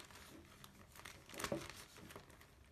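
A zip-lock plastic bag being pressed shut, giving a soft, close crinkling and rustling that swells briefly midway and carries no talk.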